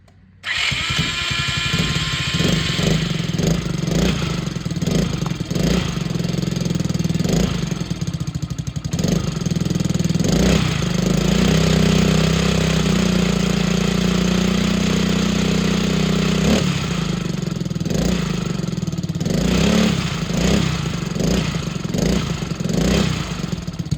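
A 2021 YCF 50A pit bike with a rebuilt top end starts up and revs in loud, repeated blips, then settles into a long steady idle before revving again, close and dominant throughout.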